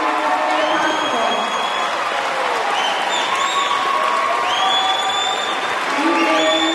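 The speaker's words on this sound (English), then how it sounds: "please join me in giving a round of applause to your families" Graduation audience at a high school ceremony applauding steadily, a dense wash of clapping with scattered cheers and whoops throughout, loud and sustained.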